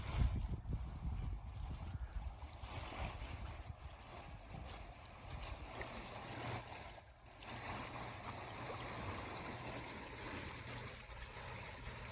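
The Spanish Fork River in Thistle, Utah, rushes and churns steadily in a continuous broadband roar, with gusts of wind buffeting the microphone.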